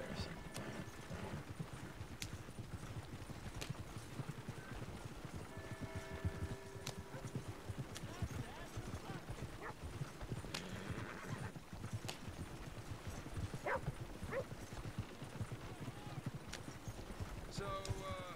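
A horse's hooves clip-clop steadily on dirt in Red Dead Redemption II, mixed with a whinny and ambient outdoor game sound while a person talks throughout.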